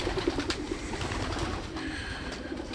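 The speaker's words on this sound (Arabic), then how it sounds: "هاي الطيور الزينة، طيور آشور الحجي" Ornamental pigeons coo softly in a few low, throaty bursts near the start, with a faint steady background hum and no talking.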